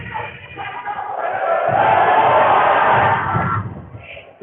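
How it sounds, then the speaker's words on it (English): Loud, rowdy home crowd at a Reed Spring, Missouri high school basketball game against Crane, a sustained roar of cheering and shouting that swells to a peak mid-clip, then eases off. "This Reed Spring crowd be loud and rowdy here"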